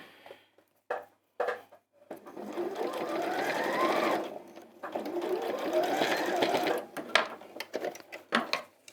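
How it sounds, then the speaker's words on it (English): A sewing machine stitches down fabric from the raw edge, two long steady whirring runs of rapid needle strokes, close and clear, bracketed by short clicks and handling sounds. "I'm sewing from the raw edge down for a reason"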